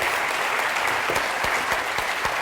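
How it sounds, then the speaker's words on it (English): A crowd claps continuously and loudly, a dense wash of hands with a few sharper individual claps standing out, unbroken throughout. "We should clap."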